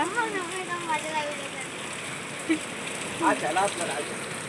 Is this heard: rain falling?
yes